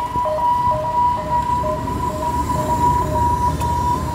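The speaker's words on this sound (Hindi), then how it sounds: "ये देखिए एम्बुलेंस आते हुए" An ambulance siren passing near a highway, a steady repeating wail that carries over loud, constant traffic rumble and road noise.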